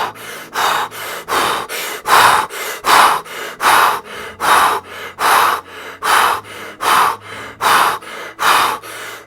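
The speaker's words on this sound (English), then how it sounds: "you breathe in your nose and mouth, in and out, almost like you're hyperventilating" Wim Hof breathing: a person hyperventilating through nose and mouth, taking about a dozen loud, close, evenly paced in-and-out breaths with no talk.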